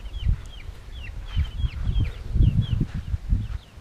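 Several chickens clucking and chirping softly at close range in a coop, steady overlapping calls over low shuffling and rustling.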